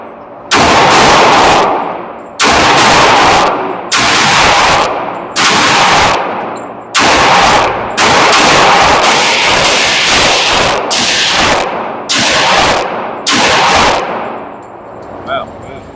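A Glock G30 .45 ACP pistol fires at targets, a dozen or so sharp, very loud cracks spaced about a second apart, each trailing off in a brief echo.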